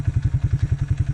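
A 30-year-old 1995 Suzuki Quadrunner ATV engine, found with a dead mouse in its airbox, catches and runs with a fast, even, thumping low putter, close and steady throughout the short stretch.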